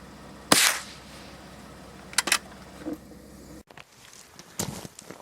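One sharp, loud gunshot cracks out early during an outdoor grouse hunt in the East Kootenay, followed by a few quieter clicks and knocks over a faint background hiss.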